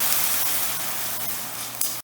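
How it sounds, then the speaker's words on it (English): Chicken broth poured over rice in a hot pan hits with a loud, steady hiss and sizzle, close up, cutting off abruptly at the end. "Now I'm going to add in some chicken broth."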